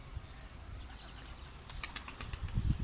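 A startled bird takes flight outdoors, a quick burst of flapping wingbeats, then a longer run of rapid flaps building near the end, fairly close with faint chirps in the background.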